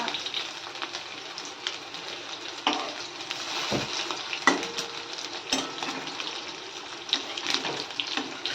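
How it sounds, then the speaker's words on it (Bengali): Fish roe fritters fry in hot oil, giving a steady, close crackling sizzle that runs the whole time, broken by a few sharp clinks and scrapes of a utensil stirring or turning them. No one speaks. "এই যে হয়ে গেছে সব বড়াগুলো ভাজা"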